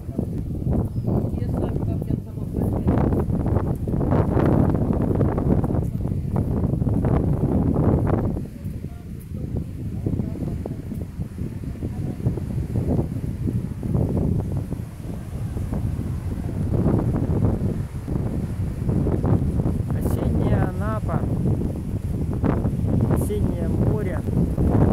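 Gusty wind buffets a microphone on an autumn seaside walk in Anapa, a steady rumbling roar under nearly continuous talking from a man using a Bluetooth headset.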